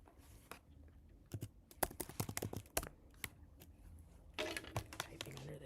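Keys clatter in uneven bursts on a computer keyboard during a coding session, sharp close clicks with brief pauses and a denser flurry toward the end, alone without speech.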